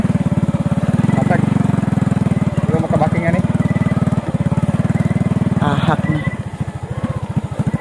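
Motorcycle engine running while the bike is backed up, a close, steady puttering drone that drops in level near the end, with voices talking over it.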